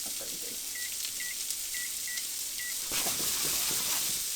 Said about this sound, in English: And I'm setting my timer for 3 minutes.